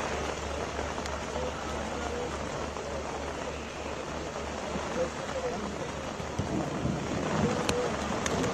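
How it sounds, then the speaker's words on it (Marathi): Heavy rain pours steadily on an outdoor evening event near the Gateway of India in Mumbai, a dense continuous hiss with low rumble beneath, speech murmuring through it. "या संध्याकाळच्या कार्यक्रमाला अचानकपणे पावसानं हजेरी लावली आहे आणि भर पावसात हा कार्यक्रम सुरू आहे"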